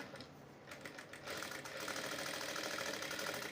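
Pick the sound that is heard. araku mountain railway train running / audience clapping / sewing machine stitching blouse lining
sewing machine stitching blouse lining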